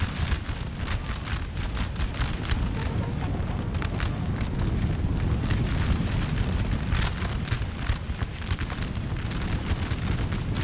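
Artillery in the Napoleonic battle game Napoleon Total War fires in a dense, continuous rumble of overlapping booms and crackling volleys, loud and sustained throughout with no pauses.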